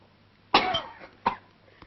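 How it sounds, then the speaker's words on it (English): A person gives two hoarse coughs, close and fairly loud, the first longer and rasping, the second short, followed by a faint catch of breath. "Cough it up."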